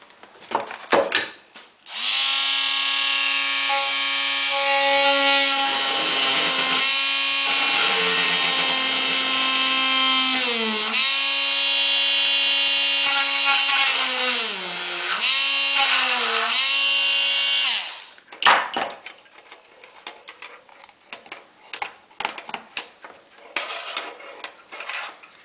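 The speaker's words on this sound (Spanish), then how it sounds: "El punto donde hay que hacer el taladro es aquí." A power drill bores a hole in a plastic food-storage box to fit a switch for a bicycle flashing light. The loud, steady motor whine runs for about sixteen seconds, dipping in pitch several times under load, with scattered clicks and handling noises after.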